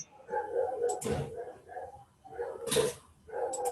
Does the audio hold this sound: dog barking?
yes